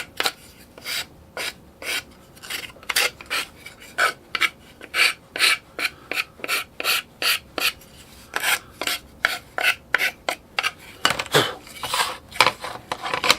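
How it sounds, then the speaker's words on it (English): A file rasps repeatedly along the edges of a Cessna 170 model aircraft's retaining gate during deburring, with about two dozen short, crisp strokes in a steady back-and-forth rhythm, close and clear with no talking. "I forgot to deburr it, so it's best just to ease all the corners"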